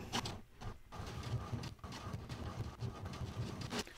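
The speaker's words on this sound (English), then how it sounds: "And the printer will do its job." An HP Deskjet 4155e inkjet printer runs a print job, with a steady mechanical whirring and rhythmic clattering of the carriage and paper feed, fairly close and continuous with no talk.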